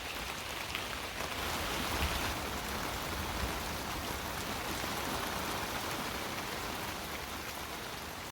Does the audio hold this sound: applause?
no